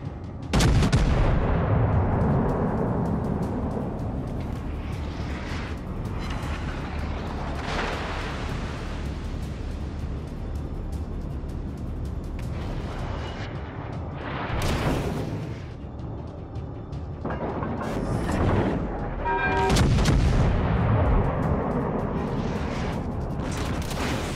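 Naval artillery in World of Warships: Legends fires in repeated heavy booms and rumbling blasts. The shots come one after another over steady engine and ambient game noise.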